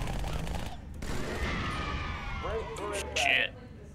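Halo 2 gunfire crackles in rapid bursts alongside rumbling explosions, with a voice talking over the noise.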